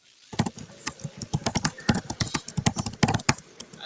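Rapid clattering keystrokes on a computer keyboard, close and loud, run as a continuous uneven burst with no voices.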